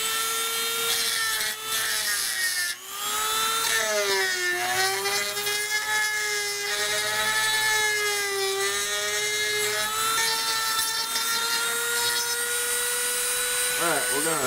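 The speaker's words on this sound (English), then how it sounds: "put this little tapered stone cone burr in here, and we'll smooth it up with that" A power tool spins a small tapered stone cone burr against metal during a Matt Chapman Eagle 580 build, giving a steady, loud high-pitched whine that wavers slightly in pitch as it grinds, continuous for the whole stretch.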